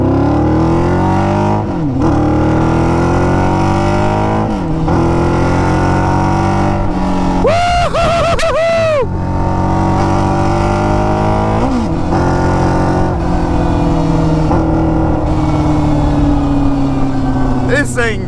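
A 600cc go-kart engine on its first drive, loud and close, repeatedly accelerating through rising high-pitched revs with brief drops between gear shifts, while a person talks over it.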